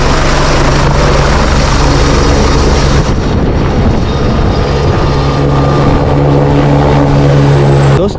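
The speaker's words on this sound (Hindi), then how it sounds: "यहाँ पे देख सकते हो एक हेलीकॉप्टर आया है" A helicopter arriving on the Kedarnath route, its loud, close rotor and engine drone filling the scene continuously, a steady heavy whir with a droning hum throughout.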